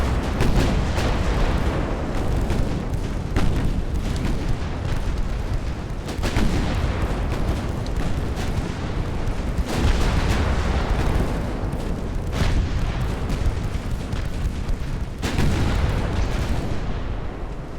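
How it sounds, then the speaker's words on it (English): Warship torpedo magazine exploding in Ultimate Admiral: Dreadnoughts, a dense run of heavy booms and rumbling blasts repeating every few seconds, loud and continuous throughout. "We must have gotten a lucky penetration and blew her torpedo magazine."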